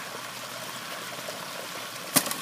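Water runs steadily through a high banker sluice outdoors, a continuous soft rushing trickle at moderate distance, with one sharp knock near the end.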